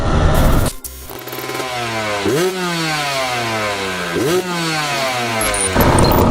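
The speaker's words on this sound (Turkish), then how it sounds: "Motor kilitlendi lan çamurdan." An enduro motorcycle stuck in mud revs hard, its engine climbing and falling in two sharp surges over a steady loud drone, close and with no talking.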